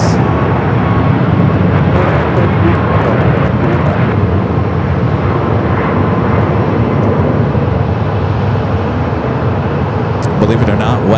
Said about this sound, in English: Flight heading to Edmonton, Canada, 737 MAX 8, 3-year-old aircraft.